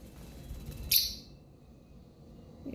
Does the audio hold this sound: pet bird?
yes